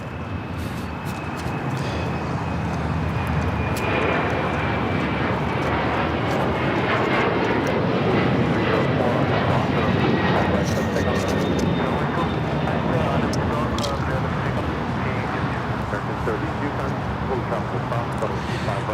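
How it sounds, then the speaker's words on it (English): A Latam Airlines Boeing 767-300ER jet roars loudly through its takeoff roll and climb toward Lima, a steady powerful engine rumble with a thin whine on top, with people talking over it. "2479 taking off to Lima on the 767-300ER"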